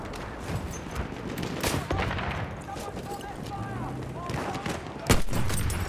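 Gunfire in the World War I shooter Battlefield 1, with scattered bursts of shots and crackling rounds, some distant and some closer, and one sharp loud report near the end; faint background chatter runs underneath.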